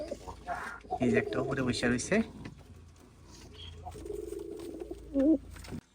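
Pigeons coo in low, throaty bursts close by, partly under a person talking.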